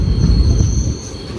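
A train rolls in toward Mulanthuruthy station, a loud, close rumble of wheels and carriages with a faint high squeal running steadily over the low roar.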